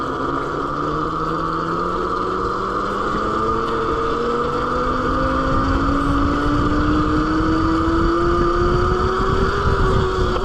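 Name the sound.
AnyLand Rev Pro e-bike riding a wheelie on pavement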